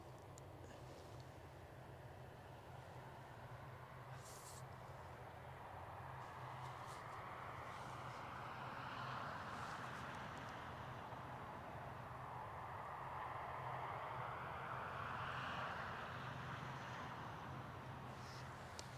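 An Aer Lingus airliner departs Newcastle Airport, a distant, faint engine roar that swells gradually and stays broad and steady throughout, with no one talking.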